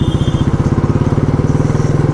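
A Continental motorcycle with a double silencer exhaust idles close by in Mysore, its loud, steady, rapid thumping pulse running throughout with no pauses.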